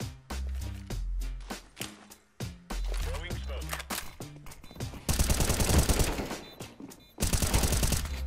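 Rapid gunfire from a CS:GO match, with loud bursts of automatic fire dominating the second half after scattered single shots and game effects, while players talk over it.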